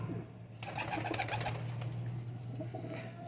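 Teddy and Ferozpuri cross pigeons coo steadily inside a cage, a low continuous throaty cooing with overlapping bird calls and a faint rustle, close and fairly loud throughout.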